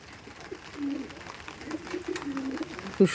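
Pakistani Chotiyal pigeons give soft, low coos, close by and fairly faint, with a brief louder sound at the end.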